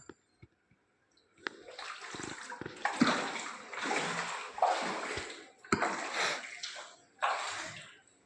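Floodwater from heavy rain sloshing and rushing in repeated surges inside a house in Budhlada, each burst loud and close, separated by short quiet pauses.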